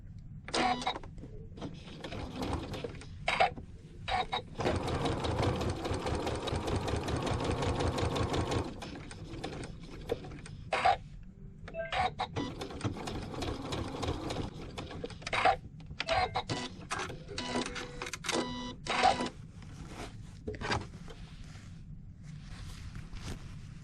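A sewing machine stitches hexagon quilt blocks in loud, close bursts of rapid mechanical whirring, one long steady run followed by many short start-stop runs, with no talk.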